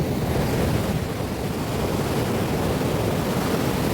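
Sea waves wash up over bare feet on the Rameswaram shore, a continuous broadband rush of surf close to the microphone with steady wind noise and no talk.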